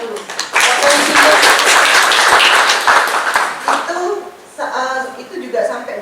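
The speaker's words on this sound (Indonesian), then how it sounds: "bisa kita berikan tepuk tangan dulu" A crowd applauds at the G2R Tetrapreneur 2021 product exposition, a dense, loud burst of clapping that runs several seconds, then fades as a voice begins speaking over the last part.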